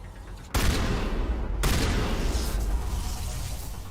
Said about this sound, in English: Hey, a shotgun might help.